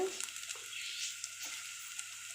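Cut eggplant added to a pan of sautéed onions gives a steady, bright sizzle of frying with a few soft stirring clicks, close and continuous, with no talking.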